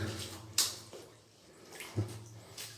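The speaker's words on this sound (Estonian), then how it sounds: "Siin nüüd tilgub kõik." Water drips inside a cave, a few sparse, faint drops falling at irregular intervals against a quiet, hollow background.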